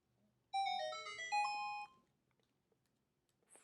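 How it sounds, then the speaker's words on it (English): A phone ringtone goes off, a bright melodic chime of two short rising phrases lasting about a second and a half, fairly loud and close over quiet room tone. "Phone just went off."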